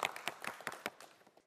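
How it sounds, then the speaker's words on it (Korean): Audience applause on a Korean quiz show, a short burst of scattered claps that starts at full strength and thins out over about a second and a half before stopping. "박수 한번 부탁드립니다."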